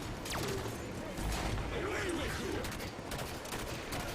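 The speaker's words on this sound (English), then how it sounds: "I think it's a plasma grenade launcher." A plasma grenade launcher firing in a shooter video game, repeated bursts of energy shots and impacts over background game noise, with faint voices underneath.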